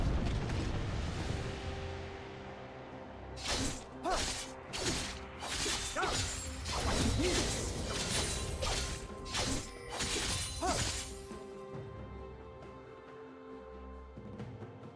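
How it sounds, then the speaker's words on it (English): A turret crumbles in League of Legends, a burst of repeated crashing, shattering impacts layered over a rumbling game mix, several loud hits in quick succession before the sound fades to a quieter hum. "Blue team's turret has been destroyed."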